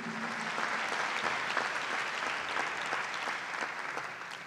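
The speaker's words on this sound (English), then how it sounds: "So let's give it an applause" A crowd at a college African festival night applauds, continuous clapping from many hands at an even level, with slight fading near the end.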